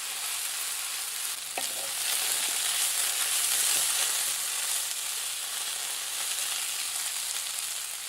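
Vegan low-FODMAP food frying in a pan while being stirred to keep it dry and toasted, a steady close hissing sizzle with a few light scraping stir sounds, no talking.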